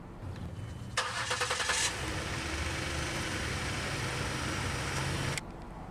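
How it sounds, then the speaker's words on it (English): 2018 Ford Explorer Platinum started with push-button ignition: a brief rapid starter crank, then the engine catches and settles into a steady, close idle that cuts off abruptly near the end. "Put your foot on the brake and push the button."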